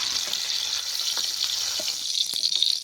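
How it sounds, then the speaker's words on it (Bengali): Tomato halves frying in hot oil give a steady bright sizzle with a few soft pops and clicks, continuous and close, with no voices. "টমেটোগুলো অর্ধেক করে ভেজে নেব"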